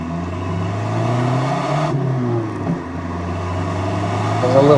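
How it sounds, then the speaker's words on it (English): A 1984 Ford Thunderbird Turbo Coupe with a 2.3 liter fuel-injected turbo engine accelerates, its steady drone climbing in pitch, dipping briefly at a shift, then pulling again, heard from inside the car. "once that turbo kicks on, it starts pulling pretty good."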